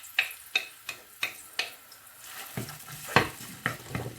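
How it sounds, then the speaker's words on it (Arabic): Onions softening in about two ladles of oil in a pan, a steady close sizzle with a run of sharp stirring or scraping clicks against the pan, louder and denser near the end. "نحطو حكايه مغرفتين نتاع قهوه نتاع زيت، نحطو البصل نتاعنا يذبل معاهم"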